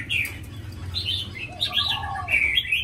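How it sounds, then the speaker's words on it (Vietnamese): A pair of caged white-cheeked laughingthrushes, male and female, calling at close range: bright repeated chirps and whistled phrases over a low background hum. "đây là cặp khứu này."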